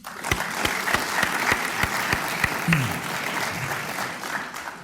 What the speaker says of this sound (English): Another round of applause to both Tim and Michael Morgan.